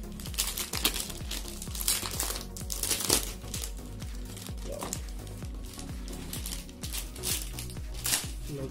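Logitech G213 gaming keyboard packaging crinkles and rustles up close in a string of irregular crackles and taps, moderately loud and without talk.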